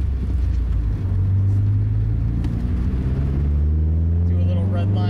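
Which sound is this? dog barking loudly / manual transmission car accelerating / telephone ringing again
manual transmission car accelerating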